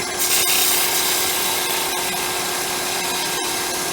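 A woodturning gouge laid on its side cutting into a small Christmas tree ornament spinning on a lathe, a loud continuous close rasping hiss with a few brief dips, no talk.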